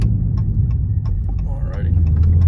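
Low rumble of a Dodge 392 V8 car engine idling and rolling slowly while pulling in, steady and close, with a person talking over it.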